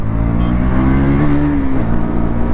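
A 2024 KTM Duke 200 motorcycle revs its engine, a loud steady drone with a brief rise and fall in pitch, heard close up with no talking.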